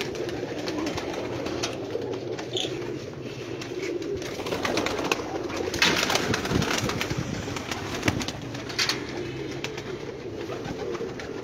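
Pigeons coo steadily in a breeding loft, a dense layered murmur of many birds close by, with occasional wing flutters and faint rustling throughout.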